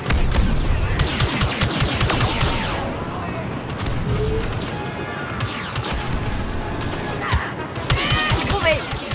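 Battlefront 2 campaign combat: bursts of game gunfire crackle through dense battle noise over nine seconds, with voices talking over the fighting throughout.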